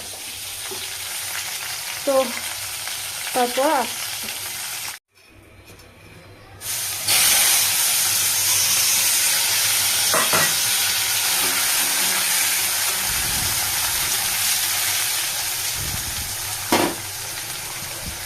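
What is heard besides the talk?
potato and onion frying in a wok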